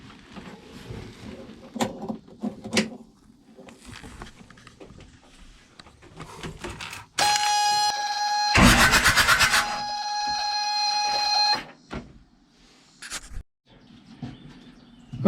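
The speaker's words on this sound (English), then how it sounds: "So now we're going to turn the switch on and see if it wants to turn over." The diesel engine of a trawler boat, idle for ten years and wired with marine terminals, cranks over on its starter: a steady whirring drone for about four seconds with a harsh burst midway, after quiet background sounds.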